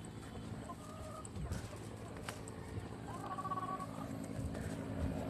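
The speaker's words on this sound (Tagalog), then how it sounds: "Hello manok!" Chicken clucking on a rural farm plot between two cities, a few short calls heard at moderate distance over steady outdoor background noise.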